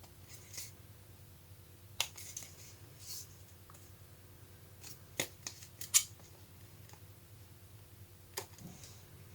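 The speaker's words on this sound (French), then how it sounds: "Je vais arrondir les angles avec mon ciseau." Scissors rounding off the corners of paper, a handful of faint, sparse snips and small clicks scattered through a quiet room, close by and soft.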